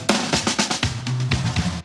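Original drum fill sample from the Cashmere pack, a quick run of punchy drum hits and cymbal-bright strikes in a busy rhythmic pattern, close and clear, ending abruptly after under two seconds.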